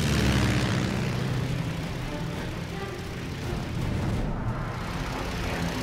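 WWII Japanese Zero fighters and a slow SBD dive bomber in a Pacific dogfight, a continuous heavy propeller-engine drone with a deep rumbling undertone, loud and sustained, swelling slightly near the end.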